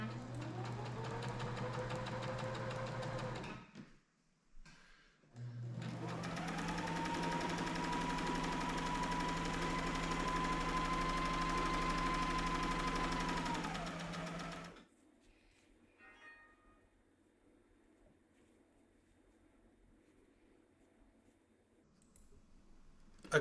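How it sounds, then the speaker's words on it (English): A sewing machine runs in a steady whirring drone, pausing briefly before a long continuous stretch of stitching along the full length of a fishing rod bag, then stops, leaving quiet rustling. "Using the same setup on the sewing machine, I sewed along the line for the full length of the bag"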